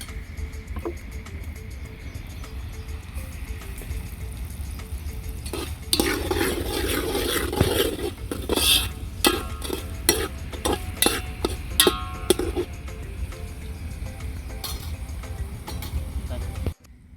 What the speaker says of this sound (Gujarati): બટેકાને અને તમામને સરખી રીતે શેરવી નાખશું અને થોડુંક નાખી દઈશું મીઠું